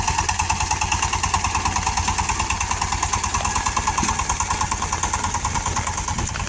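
An engine runs at a steady idle with a rapid, even chugging pulse, close and fairly loud, with no talking.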